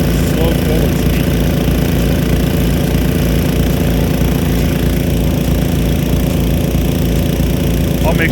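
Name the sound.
Nelson PC-NV100 Big Gun sprinkler running forward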